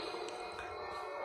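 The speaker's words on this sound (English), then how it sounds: "So this is the sound of the ramp." Ramp sound effect from a DeAgostini Millennium Falcon model on a custom board: a faint, steady electronic whirring hiss with thin tonal lines, heard alone.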